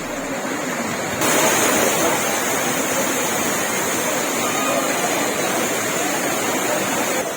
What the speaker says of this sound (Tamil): சாரல் மழை தொடர்ந்து பெய்து வருவதால் குற்றால அருவிகளில் சீராக ஆர்ப்பரித்து கொட்டும் தண்ணீர்